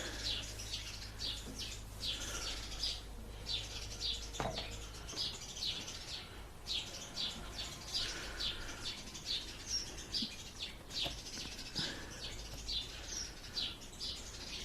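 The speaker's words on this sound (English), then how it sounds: "Now birds are back at it again." Small birds chirp in quick repeated bursts of high, thin tweets, fairly faint and steady, with a low background hum underneath.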